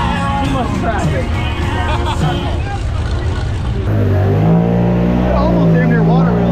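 Off-road trucks rev their engines at a crowded mud hole on a party weekend, a loud, continuous roar with rising and falling pitch sweeps, under the steady babble of a nearby crowd.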